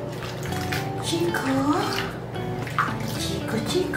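Bathwater sloshes and splashes as a chihuahua gets a bubble bath, soft close-up water movement running steadily beneath a voice talking to the dog.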